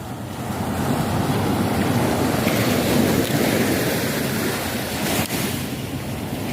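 Ocean surf washes steadily onto a seashore. The roar is broad and constant, with wind buffeting the microphone and no voices.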